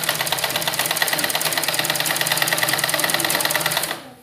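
A sewing machine runs a top stitch along the neckline strip of a suit, a rapid, steady mechanical stitching close by that winds down at the end.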